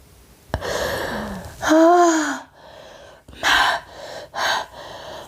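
A person gasps sharply for breath after eating salmon and tuna sushi with wasabi, with loud strained inhales and breathy exhales repeating several times close to the listener, with no talking.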